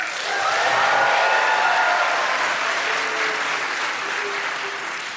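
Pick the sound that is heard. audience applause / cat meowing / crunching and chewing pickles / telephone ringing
audience applause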